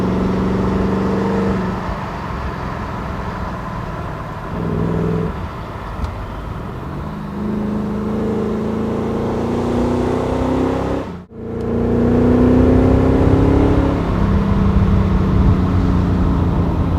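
A Mercedes 560 SEC, a 1980s pillarless coupe, is driven with a steady, close engine drone that rises and falls through gear changes and revs, broken by one brief dip, with no talking.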